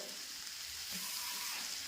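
Water is poured into a hot pan of papaya curry, bringing a faint, steady sizzling hiss that carries on for a couple of seconds.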